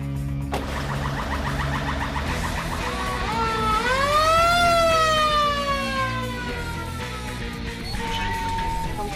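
An emergency rescue vehicle's siren wails while heading out to a driver who collapsed on the road, a loud continuous tone that rises and falls in long sweeps, close by and with no voices over it.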